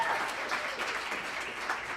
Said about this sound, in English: A round of applause for our hosts for the event for tonight.